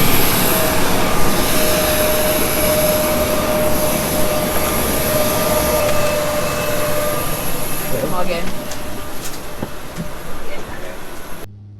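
Airplane engines roar steadily at a small airport in Innsbruck, a broad continuous whine and rumble that lasts throughout, with fainter clunks near the end.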